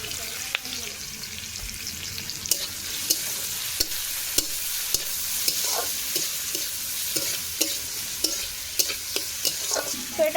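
Food fries in a pan seasoned with a little salt and turmeric, a continuous soft sizzle punctuated by regular scraping taps of a spatula stirring, steady and close without talk.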